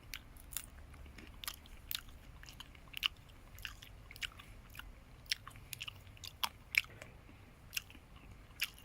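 Close crunchy bites and chewing of a Hall's Giant hazelnut, a series of sharp cracks and crunches scattered irregularly over a quiet background, with no talking.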